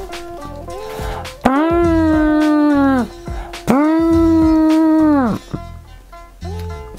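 A person imitates an elephant with two long, loud trumpeting vocal calls, each strongly tonal and lasting over a second, made during a paper puppet craft session.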